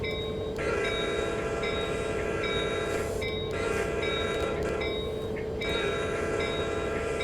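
A train in Train Simulator 2019 on Donner Pass rumbles past steadily for several seconds, with a continuous low roar and bright metallic ringing tones layered on top, fairly loud and close.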